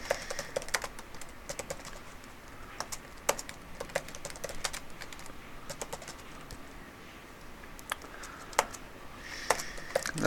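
Steady typing on a computer keyboard while writing C++ code, with quick irregular key clicks and occasional sharper presses running throughout, fairly close and with no talking.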